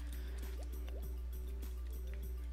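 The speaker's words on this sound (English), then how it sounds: "I really hate the splashing noise" Water splashes and drips in the platform game Ty the Tasmanian Tiger, a faint repeating series of small liquid plops over a steady low game hum.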